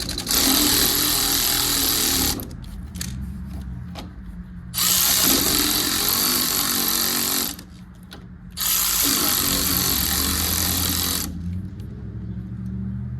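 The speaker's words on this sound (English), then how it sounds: "Break out some power tools for this situation." A loud power tool whirs in three long bursts on a rusted frame rail of a 1979 Volare wagon, with quieter pauses between, mechanical clatter and a low engine hum underneath.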